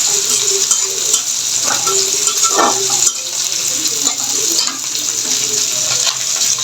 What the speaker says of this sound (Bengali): মাছটা ভাজা হয়ে গেছে আমি এখন নামিয়ে নিব